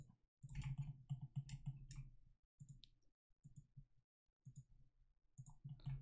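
Bursts of quick, close clicking from a computer mouse or keyboard in a quiet room, coming in short clusters with brief pauses between them and no voices.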